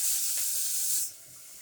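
Water poured from a bottle into a hot pan on a stovetop, a loud, close hissing sizzle lasting about a second before dropping to a softer hiss.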